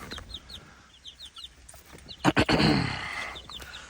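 Chickens in a backyard coop with an automatic feeder and waterer give soft repeated clucks, then a louder burst of squawking and flapping near the end.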